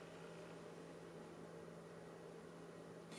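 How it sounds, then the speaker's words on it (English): A bathroom exhaust fan runs upstairs in a house, heard as a faint, steady broadband whoosh with a low constant hum, unbroken throughout and with no talking. "The fan in the bathroom is on."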